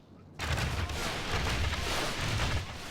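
Rapid crackling gunfire in the siege battle game Tsardoms Total War, a dense, continuous rattle like machine gun fire that starts abruptly and holds steady at a loud level for over two seconds before easing.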